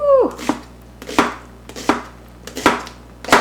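A knife chops an onion on a cutting board with about five sharp, close knocks at a steady, unhurried pace and no voices, after a short squeaky tone at the start.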